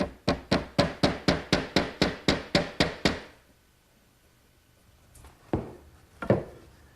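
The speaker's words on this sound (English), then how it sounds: "then we set the peg in position, tap it in" A wooden peg is tapped into a glued mortise on a mesquite bookcase, about a dozen quick, even knocks in steady rhythm, then quiet with a few softer handling thumps.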